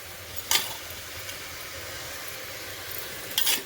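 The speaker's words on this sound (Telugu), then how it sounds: "పాలకూర కూడా వేసేస్తున్నానండి" Spinach dropped into a hot pan for a high-protein pulao, giving a steady soft sizzle with a couple of sharp clinks of a utensil against the pan, close and alone.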